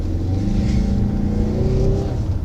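A car revving and drifting across beach sand, its mid-pitched engine droning steadily and loudly with rising and falling revs throughout, close up and with no talk.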